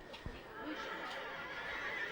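A Comtois draft horse neighs at a horse show, a single whinny rising over steady crowd murmur and background chatter in an outdoor show ring.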